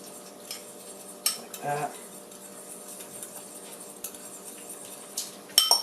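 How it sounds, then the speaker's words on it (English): A fork mixes homemade seasoning in a dish, giving soft intermittent scrapes and light metallic clinks against the bowl, with a brief voice at the end. "fork, we're just going to mix that all up"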